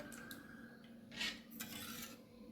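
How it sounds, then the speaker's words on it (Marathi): A spoon scraping and stirring papad batter in a pot, soft rasping strokes repeating continuously with one louder scrape midway, close and quiet, no talk. "सतत ढवळून घ्यायचं आहे आपल्याला हे बघा असं"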